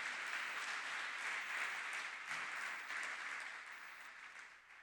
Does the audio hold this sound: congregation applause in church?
yes